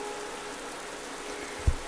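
Steady rain falls through a quiet scene in an audio drama, a soft even hiss with no talking, broken near the end by a brief low thump.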